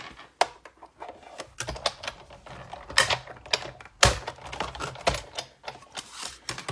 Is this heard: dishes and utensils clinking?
no